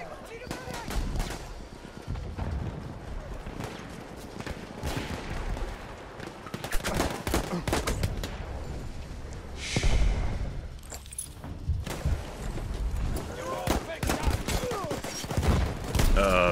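Pistol and other gunfire rings out during Battlefield 1 gameplay, with repeated sharp shots and scattered bursts mixed with battlefield noise and explosions across the whole stretch, while people talk over it.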